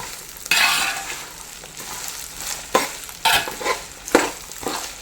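Green chilies, ginger and garlic frying in oil for Kerala-style beef pickle. The oil sizzles continuously, and a spoon stirs in several loud scraping sweeps.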